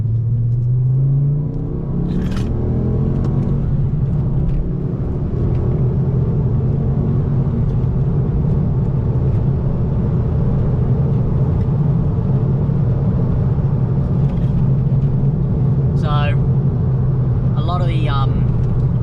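Ford Focus ST with an Xforce catback exhaust accelerating on a back road, its steady loud engine and exhaust drone rising under road rumble throughout, heard from inside the car.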